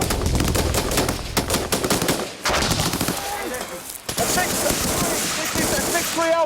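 Military gunfire during a Royal Marines engagement in Afghanistan, sustained loud bursts of automatic fire and sharp shots overlapping continuously, with shouted voices mixed in.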